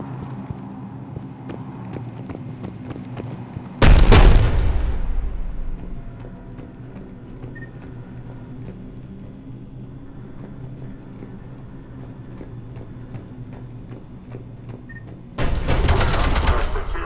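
Two heavy booming cannon blasts in the video game Mass Effect 3, roughly twelve seconds apart, each a loud crash with a long rumbling decay, over a low steady drone.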